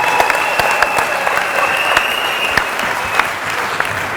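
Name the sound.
applause for the married couple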